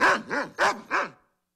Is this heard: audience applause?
no